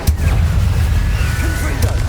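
An Incendio fire spell cast in the video game Hogwarts Legacy erupts as a loud, booming burst with a crackling, roaring rush that sustains for about two seconds, with no talking.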